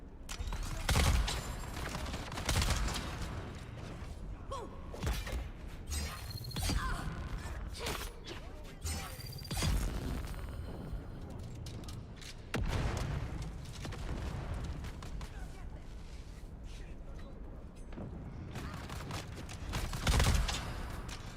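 Gunfire in the survival game Dune Awakening: dense, continuous bursts of shots and booms with mechanical clatter, loud and sustained throughout, with faint voices underneath.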